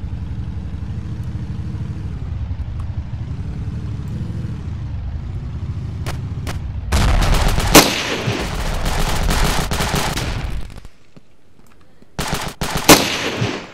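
Ravenfield video game battle with a low vehicle engine drone, then a loud burst of sustained automatic machine-gun fire and shots, a short lull, and a few more sharp gunshots.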